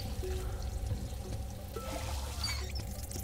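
Water pours in the video game Out of Space, a steady close trickle and splash that runs through the whole stretch over a low background hum, with no talking.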